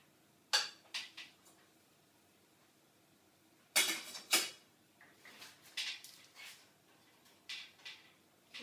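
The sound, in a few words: salmon fillet being lifted and turned over in a pan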